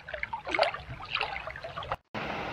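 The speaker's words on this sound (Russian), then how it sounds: "Рядом, возле моего пруда, протекает небольшой горный ручей, в котором всегда полно воды, и зимой, и летом." A small mountain stream trickles and gurgles into a pond in winter, close by and soft, with uneven splashing bubbles that cut out for a moment near the end.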